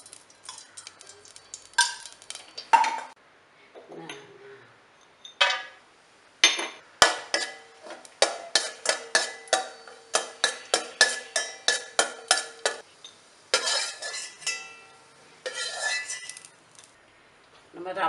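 Cashew nuts are stirred and tossed in a pan while roasting for payasam, producing rhythmic bursts of close rattling clicks and ticks of spoon on metal, separated by short quiet pauses.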